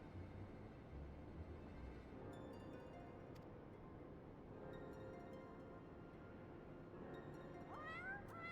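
A cat meows several times, high and fairly clear, over steady music from a Final Fantasy XIV gaming session, with no talking.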